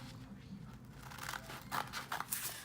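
Paper or cardboard being cut with scissors for a unicorn party centerpiece, a faint soft rustle followed by a few quick snipping crunches near the end, quiet and close.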